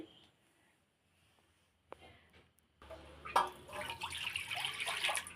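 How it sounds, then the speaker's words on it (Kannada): Water poured into a bowl of wheat flour being mixed for chapati dough, starting as a faint trickle and then running as a steady, fairly close splashing pour for the last couple of seconds. "ಸ್ವಲ್ಪ ನೀರು ಹಾಕೋತಾ ಇದ್ದೀನಿ"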